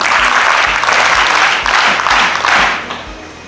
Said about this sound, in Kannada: ಚಪ್ಪಾಳೆ ಹೊಡೀರಿ